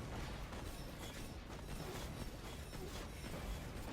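Dense, continuous rumbling blasts of grenade launcher explosions in the Borderlands 2 video game, overlapping into a steady loud roar with no clear gaps.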